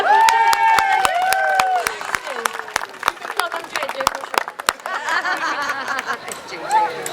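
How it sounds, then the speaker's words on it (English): Listeners at an Italian storytelling performance about La Befana clap in a round of applause. The claps come in rhythmic, evenly spaced beats, mixed with excited, high voices cheering and chattering around them. "a round of applause"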